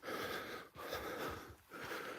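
Heavy, winded breathing from a person atop a hill at Brimham Rocks after the climb, with loud, close, rough breaths in repeated cycles and brief pauses between them.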